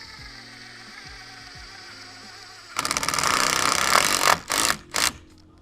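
A power driver sinks a 100mm square-drive screw into a pre-drilled hole at the base of a timber garden-step strut, a loud buzzing whir lasting a couple of seconds followed by short bursts as the screw seats, after a quieter background hum.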